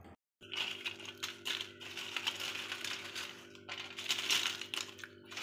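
Crispy homemade potato chips shaken and rattled on a plate, with a dense run of light, close, dry clicking and crackling clatters.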